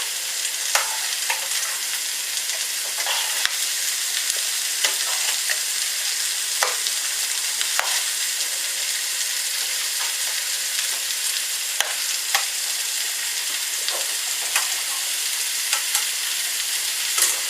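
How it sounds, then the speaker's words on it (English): Beef mince frying in a pan while being stirred with a spoon, a continuous bright sizzle with frequent light scrapes and clinks spread throughout, no voices. "And we'll stir in the mince with the rest."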